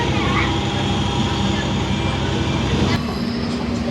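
A passenger train being moved out of the Guntur coach depot rumbles steadily with a loud continuous wheel-and-engine drone, a faint horn-like tone near the end, and talk heard over it.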